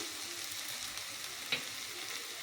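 Onions fry in a pan as ground coriander goes in, a steady soft sizzle throughout with one brief clink near the middle.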